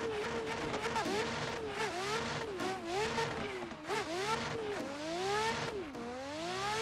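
Boosted street car engine in the video game Assetto Corsa, revving up and down repeatedly while drifting a touge track, with wavering pitch swings, tire squeal and a sustained loud tone.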